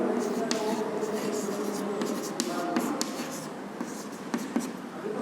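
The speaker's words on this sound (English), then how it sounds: "Here I will write" A marker or chalk scratches steadily across a board in an accounting class, a continuous dry scraping with brief stroke accents, heard close under a steady room hiss.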